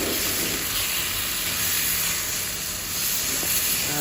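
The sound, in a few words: lotta fish frying in a pan with ginger garlic paste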